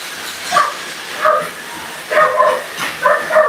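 Dogs barking and yipping in short bursts during a late-night meal session, several separate yelps at close range, some whimper-like tones, no talking.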